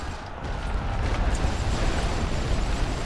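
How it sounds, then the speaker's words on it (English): Artillery barrage in the World War I game The Great War Western Front: a continuous, loud low rumble of massed explosions rolling without a break, dense booming filling the whole stretch. "Commencez le barrage."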